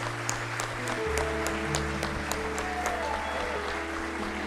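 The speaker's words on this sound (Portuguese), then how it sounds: "Dá uma salva de palmas para Jesus" A church congregation claps in a steady round of applause over sustained organ or keyboard tones, the clapping continuous and moderately loud, with occasional sharper accents on top.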